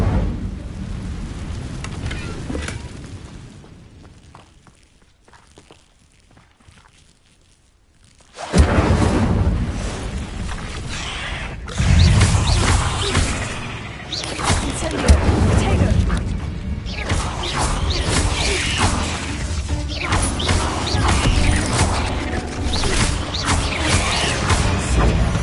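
An Incendio fire spell cast in Hogwarts Legacy. Loud, crackling bursts erupt suddenly after a quiet stretch, followed by sustained rumbling and rushing noise, with voices in the game.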